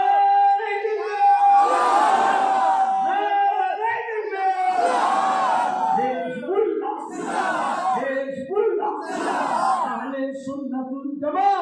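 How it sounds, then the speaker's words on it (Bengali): A large crowd at a religious sermon chants the takbir in unison, several loud, drawn-out swelling shouts repeating in a steady rhythm, full and close throughout. "হাত তোলে, জোরে তাকবীর দেন"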